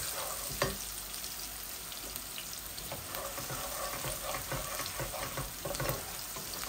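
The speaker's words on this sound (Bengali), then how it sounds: "রসুনটা লাল লাল হয়ে যাক, তারপরে পেঁয়াজ দিলাই।" Crushed garlic frying in oil in a pan: a steady, close sizzle with crackling pops and occasional scraping stirs, continuous throughout, with no talking.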